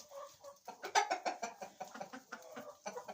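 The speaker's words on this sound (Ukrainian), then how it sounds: "Ох, який голосистий. Це найстарший у нас півник." An old rooster on a farm calls and clucks among younger birds, a steady run of close, fairly quiet fowl sounds with no clear long crow standing out.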